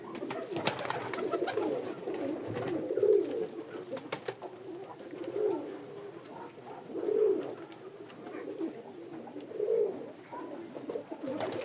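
A young pigeon coos softly several times at spaced intervals, low, muffled calls heard close by against a quiet background.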